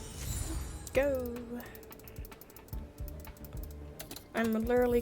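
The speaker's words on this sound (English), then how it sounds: "I'm literally clicking as fast as I can" Fast, dense clicking while playing Honkai Star Rail, running in quick bursts across the stretch under game music and a talking player.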